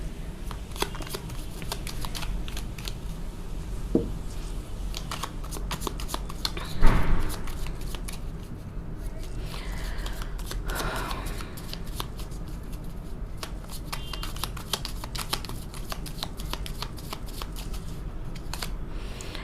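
Tarot cards shuffled by hand in a steady, close, crisp riffling patter of many quick card snaps, with a few louder slaps and rustles along the way.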